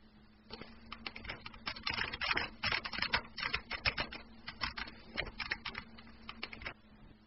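Someone types a command on a computer keyboard, a quick irregular run of soft close key clicks with short pauses, quiet and alone.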